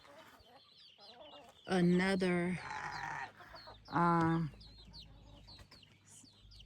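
Silkie chickens give two loud bursts of clucking at night in a backyard chicken courtyard, each lasting under a second, close by, with soft talk and faint background noise in the gaps.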